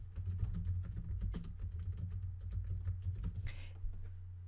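Steady clatter of typing on a computer keyboard, quick close keystrokes in an even run, fairly quiet, with a final cluster of key presses near the end.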